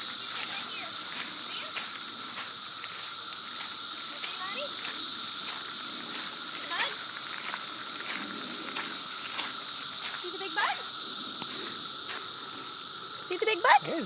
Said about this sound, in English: The loud cicadas.